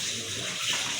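Water runs steadily from a tap at home as things are washed, a continuous broadband rush with a faint voice-like murmur partway through.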